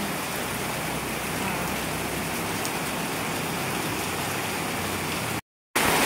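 Heavy southwest monsoon rain with wind pours steadily onto a home terrace, a loud uniform roar close by that cuts out briefly near the end before resuming.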